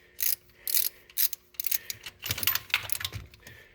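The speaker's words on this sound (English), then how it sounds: "if you don't have one of these ratchets, get you one" A Stanley ratchet with a rotating handle clicks in quick separate bursts, then a longer run of rapid, close mechanical ratcheting while working on a 460 engine.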